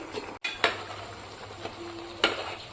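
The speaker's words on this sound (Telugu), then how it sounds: "ఒకసారి మొత్తం ఇట్లా కలిపేసుకోవాలి." Mutton keema with ivy gourd, garam masala and coriander powder being stirred in a pan, with several distinct scraping strokes over a soft sizzle, the strokes close and moderately loud.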